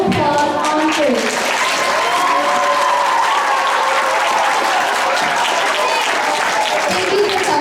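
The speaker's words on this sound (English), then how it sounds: "Let's give Miss Sherrod a wonderful round of applause on stage." A school assembly audience applauds a speaker on stage at a Black History Month event, with dense, steady clapping and crowd noise that stays loud for the whole stretch, mixed with some cheering voices.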